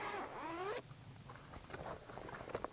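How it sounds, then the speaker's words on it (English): Two zippers on a rolled-up awning cover are pulled open: a quick rising zip is followed by softer, scattered rasps and rustles of the fabric. The sound is faint and close. "So you've got 2 zippers here. Just go ahead and open them up."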